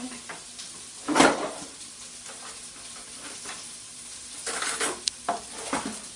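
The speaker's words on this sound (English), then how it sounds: "I'm gonna scoop this way and see if I can find something to stir this with" Soup in a pot on the stove is stirred with a utensil over a faint steady simmer, with a few louder scraping and clinking strokes against the pot, close by and with no voices.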